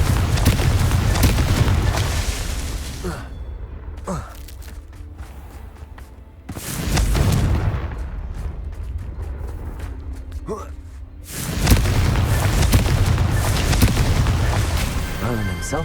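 The Confringo fire spell explodes repeatedly in Hogwarts Legacy. Three loud, heavy blasts come several seconds apart, each followed by a fading rumble, with quieter stretches and voice between them.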